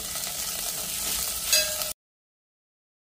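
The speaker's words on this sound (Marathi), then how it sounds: "सॉटे करून घेऊया." Sliced onion and garlic sautéing in a pan for broccoli soup, a steady close sizzle with faint stirring that cuts off abruptly into silence.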